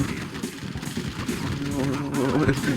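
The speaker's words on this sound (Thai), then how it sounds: "ยิงมันยิงมันยิงซุ่มยิงมัน" Gunfire from the Red Alert 2 strategy game, a dense, continuous stream of shots and blasts at steady loudness throughout, with excited voices calling out over it.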